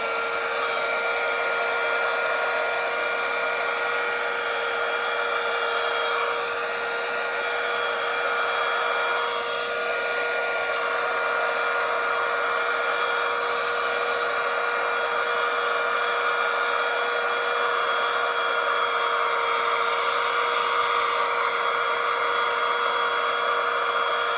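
A portable rechargeable 3-in-1 home-and-car vacuum cleaner runs with a steady high-pitched motor whine while sucking up chickpeas, close and continuous, with small rattles and shifts in tone as the hard peas are drawn in.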